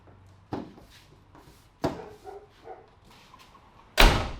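Dogs romping around a 4x4 being modified, with a few sharp bark-like bursts and thumps spread across the moment, the last one loudest and closest, between quieter scuffling.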